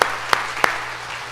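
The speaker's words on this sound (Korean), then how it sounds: "우리 정말 축복하는 마음으로 큰 박수 보내도록 하겠습니다." Church congregation in Jeongneung Methodist Church applauds during a Sunday service scholarship ceremony, a brief burst of dense clapping from a crowd in a reverberant hall with a few sharper claps standing out.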